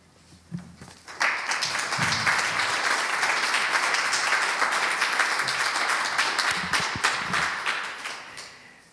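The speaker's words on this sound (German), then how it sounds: "Applaus" Audience applause at a book event on Rachela Auerbach's writings from the Warsaw Ghetto; after a quiet start with faint sounds, steady clapping begins, holds evenly and thins toward the end.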